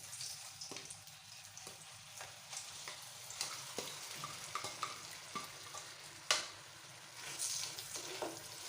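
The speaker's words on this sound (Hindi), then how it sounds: "हमारा ये सारा ऑयल गर्म हो गया है और मैं ये सारा भुर्ता इसमें शामिल कर रही हूँ" Mashed potato bharta tipped into hot oil in a pan fries with a steady soft sizzle, broken by scattered stirring scrapes and one sharper clack, fairly quiet and close with no voices.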